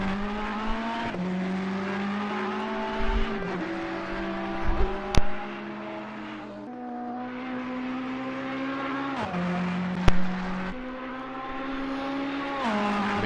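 Ferrari GT3 race car in a racing game at Mount Panorama, Bathurst, its engine screaming loud and close up through the gears, pitch rising then dropping sharply at each shift, with occasional brief clicks and no talk.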